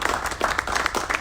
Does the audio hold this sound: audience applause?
yes